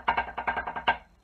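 A snare drum plays a flam mill rudiment with flat flams, giving a quick, even string of about eight crisp, close strokes with no accents standing out.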